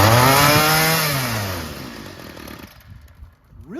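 A Homelite weed trimmer, a curbside find fitted with a new Hipa replacement carburetor, runs loud and close with a raspy two-stroke whine that winds down from a high rev, then blips back up at the end.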